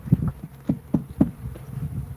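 Bees buzz around a shed beehive at close range, with several short, loud buzzing passes as insects fly near, set over a softer hum and with no talking.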